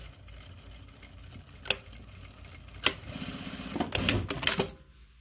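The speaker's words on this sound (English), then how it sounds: "Did I try the reverse sewing?" A Juki DDL-8700-7 industrial sewing machine stitching in reverse gives short mechanical rattling bursts with a few sharp clicks, building into a louder run near the end before it stops.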